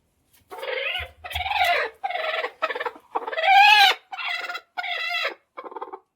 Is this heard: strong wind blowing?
no